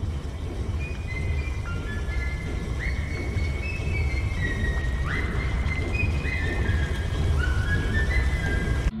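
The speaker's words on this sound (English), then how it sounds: "every so often, you will be able to hear the whistling tune from the Bendy Chapter 2 teaser trailer" Whistled tune from the Bendy and the Ink Machine Chapter 2 teaser, a melody of rising and sliding notes drifting over a constant low mechanical rumble in the video game.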